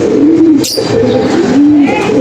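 Racing pigeons cooing up close, several low rolling coos in a row, loud and clear with a brief flutter or rustle between them.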